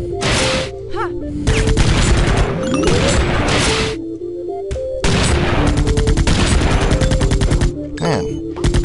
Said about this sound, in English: He shoots for much longer, and he shoots missiles.